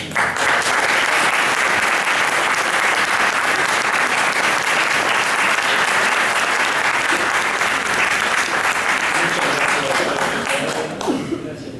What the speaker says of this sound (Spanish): le damos un aplauso a la